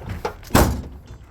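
The driver's door of a junkyard third-generation Camaro swings shut with one solid, close thunk, preceded by a lighter knock.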